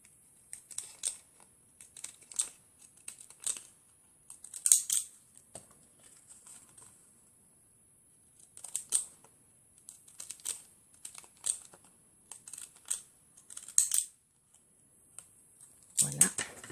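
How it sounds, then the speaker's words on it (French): Scissors cutting along one side of fabric pieces for a fofucha doll with a pram, giving short crisp snips and rustling in scattered clusters, with quiet gaps and occasional low talk. "on vient découper que sur un côté"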